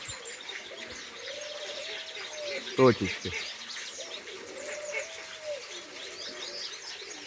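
Pigeons cooing and fluttering outdoors as the flock is sent up to fly, with a brief louder clap of wings, under a steady background hum and a few spoken words.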